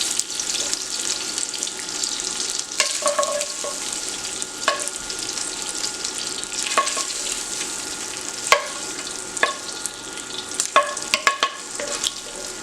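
Smoked sausage sizzles and fries in a pan for a casserole with potatoes, a steady close crackle with occasional sharp clinks and scrapes of a utensil, no voices.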